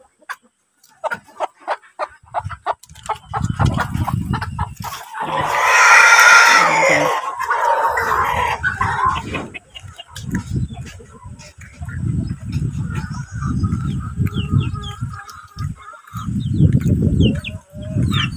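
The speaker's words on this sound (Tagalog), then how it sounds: "Papawalan na natin ang ating tiksas na nangingitlog sa labas." A hen that has been laying eggs outdoors clucks in short bursts, with other fowl sounds nearby and people talking over much of it.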